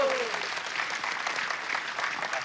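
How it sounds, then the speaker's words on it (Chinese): A party audience bursts into applause to welcome a young man called up to help a female guest draw a prize; the clapping is dense, steady and fairly loud throughout, with a faint voice briefly at the start. "掌声欢迎。"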